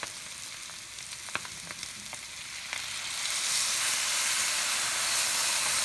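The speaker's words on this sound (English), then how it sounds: "you can see how it's working inside the wok, kind of boiling there" Green beans and fresh-squeezed lemon juice frying in a wok, a steady close sizzle with a few sharp pops early on, then swelling into a louder, dense hiss of steam and bubbling for the last few seconds; nobody talks.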